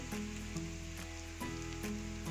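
Kashmiri chilli, coriander, turmeric, garam masala and pepper powders sizzle softly in a hot pan for a clam curry, a faint even frying hiss with a low steady hum beneath and no talking.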